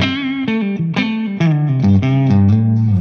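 A Schecter PT Pro electric guitar plays a short run of clean, ringing notes and chords through a Blackstar amplifier, close and fairly loud with a slight effect-coloured tone.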